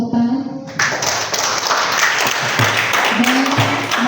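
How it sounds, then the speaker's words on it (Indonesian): Loud, sustained applause from a school assembly crowd at a student council inauguration, dense clapping filling the hall after a brief spoken lead-in. "beri tepuk tangan"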